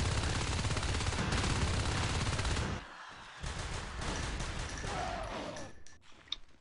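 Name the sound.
shotgun gunfire in a video game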